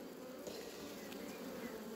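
Honey bees buzz densely around an open beehive colony, a constant close droning hum with no talk.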